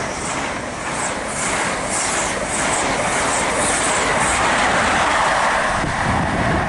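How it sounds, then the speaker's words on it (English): An HST high speed train, Sheffield to London St Pancras, rushes through St Albans City station with a steady roar and rhythmic clickety-clack of wheels over the rails, loud and sustained throughout. "And about to come through will be a Sheffield St Pancras. Here it comes. It's a HST as well."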